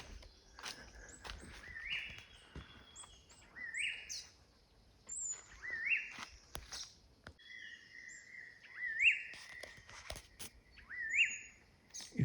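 Small birds in the Binsar forest sanctuary give repeated thin chirps and short whistled calls, some near and some farther off, among quiet forest ambience with light rustles and footsteps.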